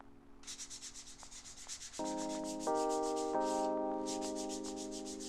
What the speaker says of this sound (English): And more sanding.